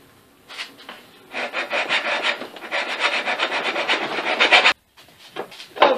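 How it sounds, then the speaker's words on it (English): Hand filing on a steel dagger blank makes close, rhythmic rasping strokes in a steady back-and-forth run, with a brief stop and a few more strokes at the end. "now we've got a couple hours of filing ahead of us"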